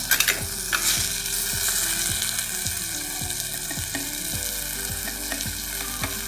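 A frying mixture with tomatoes sizzles steadily in a pan while a utensil stirs it, leaving repeated scraping knocks at an even rhythm over the constant close crackle.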